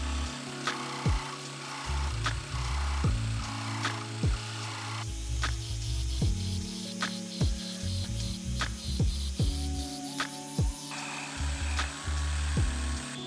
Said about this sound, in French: J'ai pris mon temps en sciant, je dirais, manuellement dans un mouvement avant-arrière en même temps que la scie sauteuse.